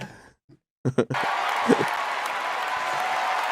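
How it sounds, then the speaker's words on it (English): Audience applause and cheering for a stand-up comedian's standing ovation, breaking out after a few short sounds and a brief pause, then holding as a steady, dense wash of clapping with a small swell partway through. "Oh, he got a standing ovation."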